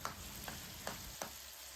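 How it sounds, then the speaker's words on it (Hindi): Minced meat with onion, tomato and garlic sizzles softly in a pan as a spoon scrapes through it in four evenly spaced stirring strokes, faint and close with no voices. "कीमा और बाकी सब चीज़ें मिक्स हो गई हैं।"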